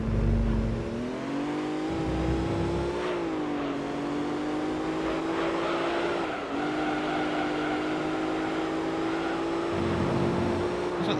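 Nissan GTR race car in Gran Turismo 3, its engine droning steadily with rising and falling revs through gear changes, loud and continuous, with faint tyre noise underneath.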